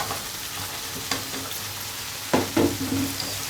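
Taro roots and potatoes fry in hot oil in a pan, giving a steady close sizzle, with a few stirring scrapes and a louder clatter of a utensil partway through.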